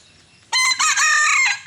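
Wild jungle fowl rooster crowing once, a loud, close, drawn-out call of about one second after a brief quiet moment.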